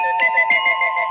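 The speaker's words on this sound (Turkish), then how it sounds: "Android telefonlarda zil sesi, mesaj sesi ve bildirim sesleri bu şekilde değişmektedir" An Android phone plays a short, bright electronic ringtone. Layered tonal notes with quick melodic steps sound close and clear.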